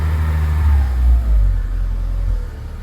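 A car engine with an unidentified whistle near the gearbox-engine junction revs up in two close surges and then settles. It is loud and near, with a deep rumble and a faint whine above it.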